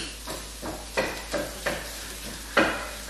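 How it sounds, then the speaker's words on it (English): Food sizzles in a pan on the stove, a steady crackling hiss punctuated by a series of louder stirring or scraping bursts roughly every half second to second. "I knew you were going to be sizzling right as I started filming."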